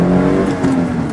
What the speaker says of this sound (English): I'll give you kind of an idea of the acceleration of this